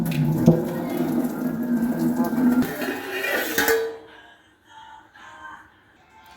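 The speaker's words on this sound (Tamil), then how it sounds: "தண்ணியை வடிகட்டிடணும்" Water pours and splashes steadily as boiled noodles are drained through a strainer, then stops, leaving faint drips and light clatter.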